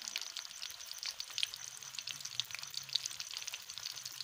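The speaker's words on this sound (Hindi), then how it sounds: "बीफ शामी कबाब बन रहे हैं।" Beef shami kababs fry gently in oil over low heat, a quiet, steady sizzle with small crackles and pops throughout and no talking.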